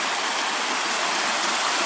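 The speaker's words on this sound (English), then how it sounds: "Oh, this would be Rollins Creek." Steady broadband rush of Rollins Creek flowing on a rainy, foggy day along the Superior Hiking Trail, constant and fairly close, with no voices.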